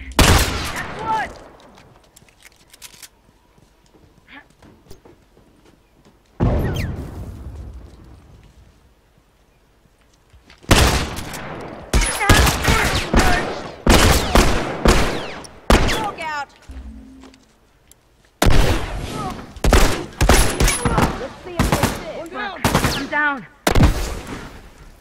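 Heavy battle gunfire and explosions come in loud, dense bursts, with shouting voices between volleys and quieter lulls, then sustained rapid shooting through the second half.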